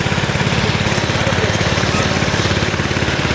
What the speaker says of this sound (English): every pass with the trowel machine needs to be perpendicular to the previous pass